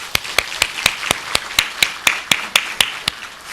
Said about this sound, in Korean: 우리 한번 힘차게 감사의 박수를 드리시고